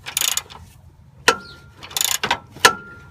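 A ratchet with a 22 mm socket on extensions turning a motor mount bolt through the K-member of a 2003-2004 Ford Mustang SVT Cobra, giving two bursts of quick clicking, each ending in a sharp knock, close by.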